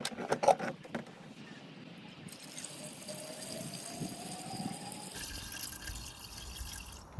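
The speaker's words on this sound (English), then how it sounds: "we're gonna fill it up with coolant" Coolant poured into the plastic expansion tank of a Peugeot 207 or 307 makes a soft, steady, rising trickle after a few faint knocks, with the filling tone climbing gradually before a brief shift in the noise.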